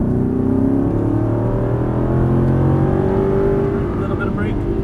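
A race car accelerates hard out of a corner on a track, its engine note climbing in a steady, loud drone with rising harmonics that holds close and continuous throughout.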